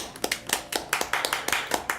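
Quick rhythmic hand clapping, about a dozen sharp claps close by and fairly loud, heard during a PC build stream.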